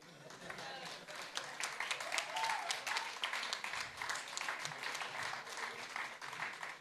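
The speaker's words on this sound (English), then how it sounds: "I always like to advocate a special round of applause for the judges" A debating competition audience applauds the judges, with sustained, fairly loud clapping that rises and falls slightly, sounding like a sizeable hall crowd.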